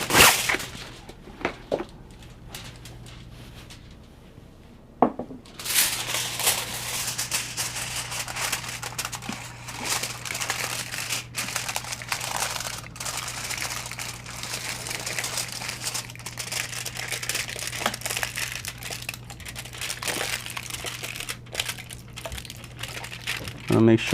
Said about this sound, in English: we're gonna cover our mold with aluminum foil, or our flan with aluminum foil